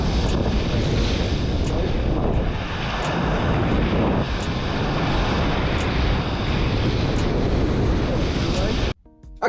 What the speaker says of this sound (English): The tide was racing in and the wind was picking up